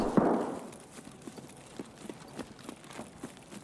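Running footsteps in Escape from Tarkov, approaching from behind; a soft, rhythmic series of muffled thuds at moderate distance, steady in pace, following a louder thump at the start.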